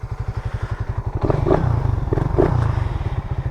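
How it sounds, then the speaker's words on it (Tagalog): A 2024 Suzuki Raider 150 Fi motorcycle idles close by with a deep, bassy muffler pulse, blipping the throttle twice before settling back to a steady thump. "medyo malakas na yung kanyang tunog ng kanyang muffler"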